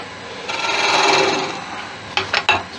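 A ball gouge hollows driftwood on a wood lathe, giving a loud, close rasping scrape that swells and fades, followed by a few quick knocks and scrapes.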